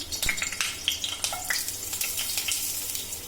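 Chopped onion frying in a little oil for veg Manchurian, with a steady crackling sizzle, close and fairly quiet, broken by a few sharp pops and clinks of stirring.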